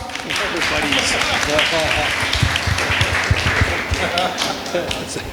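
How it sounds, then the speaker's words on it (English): An audience at a large business event applauds in a dense, continuous patter of clapping, close and loud, with no break for the whole stretch. "Can you please give them a round of applause?"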